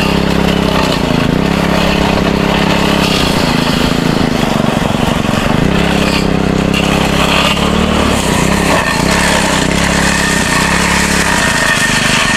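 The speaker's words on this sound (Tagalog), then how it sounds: "Na nakakapasok yung grass cutter." A grass cutter runs continuously on an okra farm, its small engine droning loud and close with a steady, slightly fluctuating buzz throughout and no speech.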